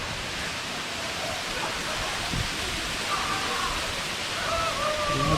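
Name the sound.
Ermaayi Falls waterfall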